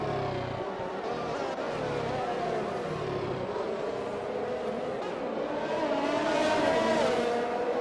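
A Ferrari and a Williams race car roar past one another on a Mexico circuit in a racing video game, their engine whine rising and sustained over the full stretch with a steady loud drone.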